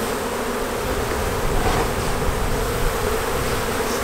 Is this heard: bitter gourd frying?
no